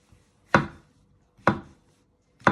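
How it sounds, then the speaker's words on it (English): Knife chopping and slicing vegetables on a cutting board, three crisp separate chops spaced about a second apart, close and clear with no talk. "So you just keep chopping them in half and then just slicing them"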